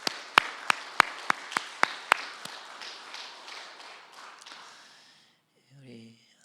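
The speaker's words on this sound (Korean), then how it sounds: "우리가 함께 위로와 격려의 박수를 하겠습니다" A church congregation claps together in a sparse, loose burst of sharp handclaps that quickly thins into scattered applause and fades out, followed by a brief murmur of voices.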